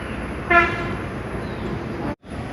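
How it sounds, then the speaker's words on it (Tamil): A lorry horn sounds once, short and fairly loud, on a hill road at a viewpoint in Yercaud, heard over steady outdoor background noise. "லாரி அங்கே ஹார்ன் அடிக்கிறது, இங்கே காது கேட்குது."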